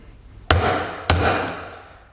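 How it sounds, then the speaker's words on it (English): A hammer strikes a socket twice to drive a wheel bearing into a Craftsman riding mower wheel, each sharp metallic whack about half a second apart and ringing briefly before the next. "we'll just give that a few whacks with a hammer"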